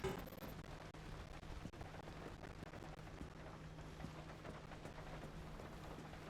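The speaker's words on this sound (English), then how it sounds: "a good rain noise" Rain in the video game Pacific Drive, a faint, continuous hiss of rainfall with scattered patters and a low steady hum underneath, quiet and without talk.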